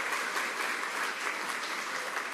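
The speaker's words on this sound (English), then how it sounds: "This illustrious board from, yes, clap for yourselves." A crowd applauds at an outdoor ribbon-cutting ceremony, a steady wash of many hands clapping heard from a moderate distance without a break.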